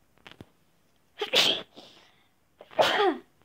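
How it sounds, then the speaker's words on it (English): Two sharp sneezes, a couple of seconds apart, each with a quick intake of breath beforehand, close and loud in a quiet room. "gotta sneeze again"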